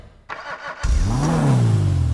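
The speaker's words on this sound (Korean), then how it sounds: "제가 엔진 소리 한번 들어볼게요" A car engine cranks and catches with a burst of starting noise, then revs up with a rising, sustained mid-pitched drone that holds loud and close.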